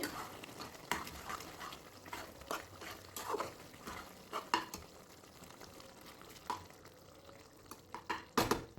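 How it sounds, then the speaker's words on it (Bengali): Soybean curry stirred in a pan, the spoon scraping in irregular strokes over a soft, steady sizzle, with a louder clatter of utensil against pan near the end. "রান্না করে নেব প্রায় পাঁচ থেকে ছ মিনিট সময় নিয়ে মাঝে মধ্যে একটু নাড়াচাড়া করে দিতে হবে"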